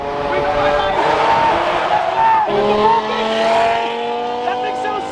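A Lamborghini Murcielago engine drives past, its loud, tonal roar rising and shifting through gears over several seconds, close by and heard alone.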